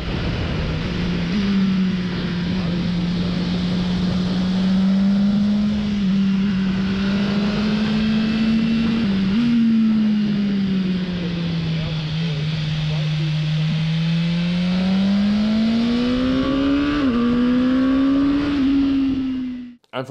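A BMW S1000R motorcycle engine revs steadily in Dynamic mode, its pitch climbing and falling as it accelerates and eases off in first and second gear, loud and close, ending abruptly.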